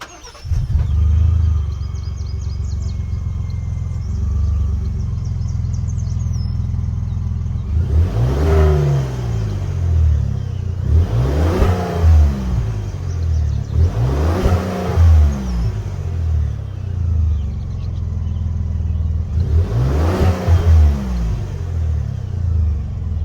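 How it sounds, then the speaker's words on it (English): A 2021 Ford Expedition XLT's 3.5-liter EcoBoost turbo V6 idles, then revs four times in distinct rising-and-falling bursts, loud and close, with no talking. "It sounds a little bit like a turbo V6, and it's pretty distinctive to the EcoBoost that Ford's been running for a while now"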